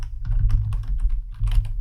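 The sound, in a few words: typing code on a computer keyboard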